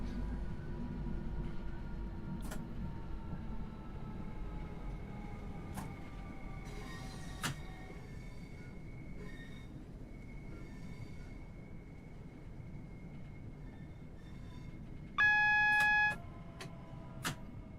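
A video game train rumbles steadily as it slows to a stop, with metallic squeals from the wheels and brakes, occasional clicks, and a brief bell-like tone near the end.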